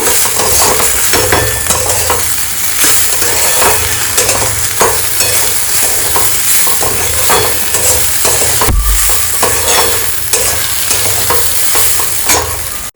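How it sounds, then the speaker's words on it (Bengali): Whole spices and coriander powder fry in a pan with a loud, continuous sizzle while a spatula stirs and scrapes steadily throughout. "এবার এটাকে ভালো করে ভেজে নেব।"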